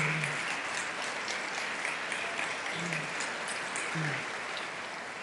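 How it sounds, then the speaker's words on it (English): Steady applause from the audience at New York's 2024 State of the State address, a dense, even wash of clapping filling the chamber, with a few faint voices beneath. "give them applause"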